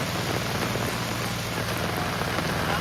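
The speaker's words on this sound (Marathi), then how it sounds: "पावसान जोर केल्यान." Heavy rain pours down steadily over muddy Konkan paddy fields at rice-planting time, a dense, unbroken roar of drops with no voices.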